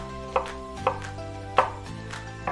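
A knife slices down through an onion in a series of vertical cuts, producing four crisp, evenly spaced chops on a cutting board, close and clear with no talking.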